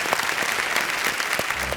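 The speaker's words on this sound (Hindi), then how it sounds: "तालियों के साथ इनका स्वागत।" A studio audience on the KBC quiz show applauds to welcome a contestant, a dense, steady wash of clapping that fills the whole short moment without any talk.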